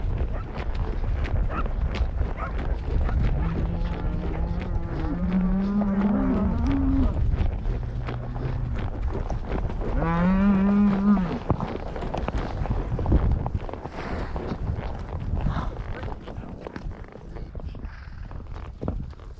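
Cattle moo repeatedly during a ten-mile cattle drive in Montana with cow dogs, several loud, drawn-out calls rising over steady outdoor rumble and shuffling hooves.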